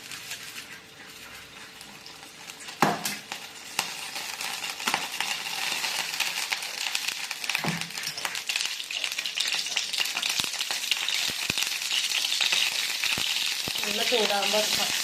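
Coconut oil heats and sizzles in a pan for a Kerala-style chicken fry, a continuous crackling hiss with scattered sharp pops and clinks of a utensil, building slightly louder toward the end.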